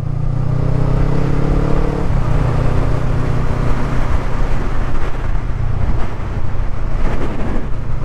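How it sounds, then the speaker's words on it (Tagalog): Strong coastal wind at a beach in Pagudpud, Ilocos Norte, Philippines buffets the microphone in a loud, continuous roar, with a low engine hum underneath early on. "Lakas na hangin."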